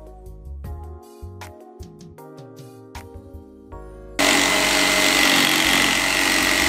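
A jigsaw cuts lightweight veneered plywood, starting abruptly partway through and buzzing loud and steady to the end, after a stretch of quieter knocks and tonal sounds.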